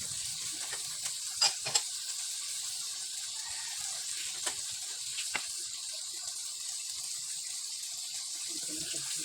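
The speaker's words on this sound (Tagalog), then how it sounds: "mixing naman" Kilayin, a Kapampangan dish seasoned with vinegar, salt and pepper, is stirred in a pan with a steady wet sizzle and scraping, plus a few sharper utensil knocks, close and continuous.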